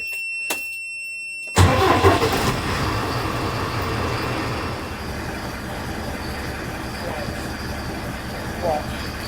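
A camper van engine, turning over on a booster battery because its own battery is flat, cranks and catches after a quiet start, then settles into a steady, rumbling idle close by.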